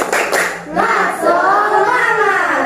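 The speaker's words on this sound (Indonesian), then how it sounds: "Tepuk semangat" Children in a classroom do the 'tepuk semangat' spirit clap: a few sharp, loud claps open the routine, then voices join in a sustained, rising chant.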